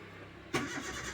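A car engine, just after a fuse replacement, catches with a sudden burst as the starter turns it over and then settles into a steady running note.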